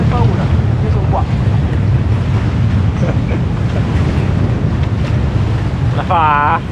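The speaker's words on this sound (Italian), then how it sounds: "ci sono quasi 20 nodi di vento." Strong wind of nearly 20 knots roars across the microphone on a sailboat at sea, a steady loud buffeting with water wash underneath throughout.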